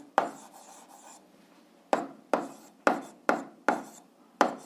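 Writing on a board during an eighth-grade algebra lesson: a handful of sharp, close scratching strokes, the first alone and then five more in quick succession, each fading briefly, with no voice over them.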